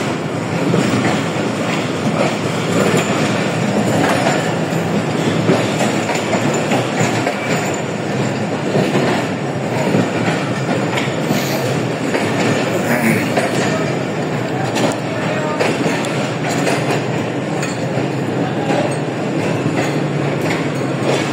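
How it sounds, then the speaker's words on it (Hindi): The 40 Down Jaffar Express to Quetta gathering speed on the rails, a loud, steady rumble of wheels and carriages with rhythmic clatter throughout and no talking. "स्पीड गेन हो रही है ट्रेन की।"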